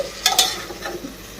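Vegetables stir-fried in a pan for veg biryani: a few quick clattering stirs and a light sizzle up close, then a softer, steady frying hiss.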